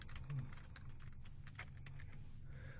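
Soft computer keyboard typing as code is entered: a quiet, uneven patter of key clicks over low room hum.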